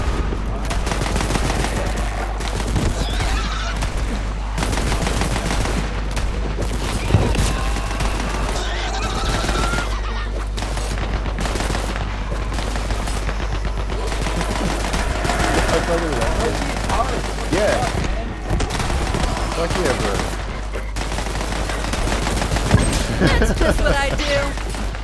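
Rapid gunfire rattles through a Borderlands 3 firefight, machine-gun bursts and crashes running loud and nearly continuous for the whole stretch, with a voice talking over the action.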